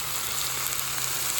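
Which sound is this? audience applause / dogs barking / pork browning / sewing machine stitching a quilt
pork browning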